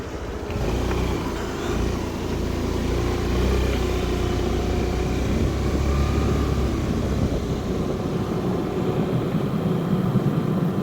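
A vehicle with a fault creeps along a ghat road, its engine a steady, fairly loud drone that holds throughout with no talk.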